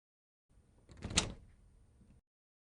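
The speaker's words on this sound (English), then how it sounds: "That's a good door open sound." A video game door-opening effect: a quiet mechanical rumble that rises into a sharp hissing peak, then trails off in a low scraping tail, about two seconds long, heard alone.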